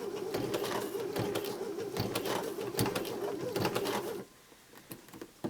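A Baby Lock Sashiko sewing machine stitching through quilt binding, a quick, rapid mechanical clatter of stitches for about four seconds that then stops, leaving faint handling noise.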